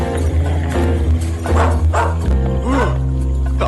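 A dog barks in a few short bursts over steady background music, fairly close and loud.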